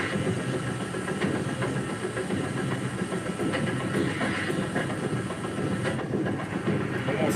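A train runs on railway tracks in a Breaking Bad scene, giving a continuous dense rumble and rattle of wagons with faint rhythmic clacking, steady and close throughout.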